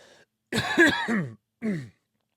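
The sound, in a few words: coughing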